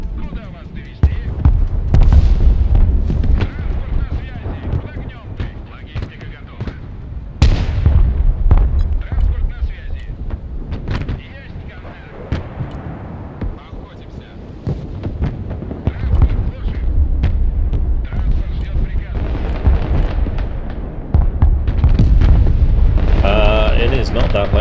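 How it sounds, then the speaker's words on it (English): Iron Thunder vehicles in a video game firing non-stop, heavy booming artillery-like blasts repeating over a dense rumbling background, loud and continuous, with talk running over parts of the barrage. "These Iron Thunders are just firing non-stop."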